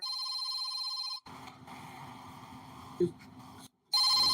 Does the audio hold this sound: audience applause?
no